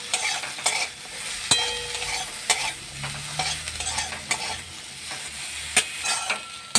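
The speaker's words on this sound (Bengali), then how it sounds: "এবারে এই বেগুনগুলোকেও আমি একটু ভেজে নেব" Small pieces of eggplant coated in salt and turmeric frying in hot oil: continuous sizzling with repeated sharp scrapes and clinks of stirring, close and fairly loud, without speech.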